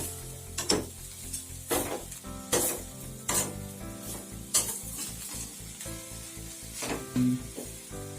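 A spoon scrapes and stirs a sizzling stuffing for kothimbir vadi in a kadhai, with rhythmic strokes about once a second over a continuous fry hiss and faint metallic clinks, no talking.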